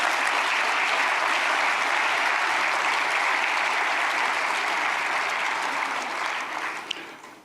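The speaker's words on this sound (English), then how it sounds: "Please give a round of applause to our new bureau." Sustained applause from a large audience at the closing ceremony of the annual African Development Bank meetings, steady and dense for several seconds before fading away at the end.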